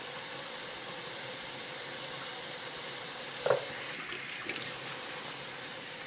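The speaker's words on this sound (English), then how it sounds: "the next step is to get all the grime washed off of them" A kitchen tap runs steadily while radishes are washed, giving a constant soft hiss of flowing water with one brief splash or knock midway.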